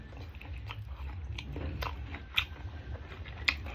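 Someone bites and chews Samyang mala-flavored instant noodles with a soft-boiled egg, close up: soft wet chewing with a few sharper bite clicks, no talking.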